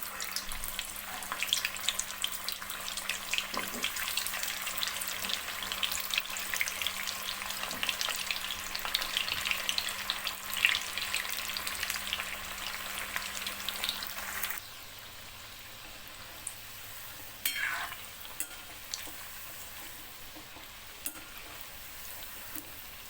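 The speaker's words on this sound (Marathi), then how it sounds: "आपण याच्यामध्ये आता एक एक मुठिया सोडून देणार आहोत." Methi muthiya dumplings frying in hot oil, with a dense continuous crackling sizzle that drops suddenly to a quieter bubbling about two-thirds through, broken by a few light knocks.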